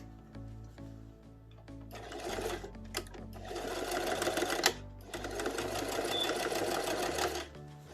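A sewing machine stitches the seam of an upcycled Christmas stocking in bursts, with a near, whirring run, brief pauses, then a longer steady run before stopping.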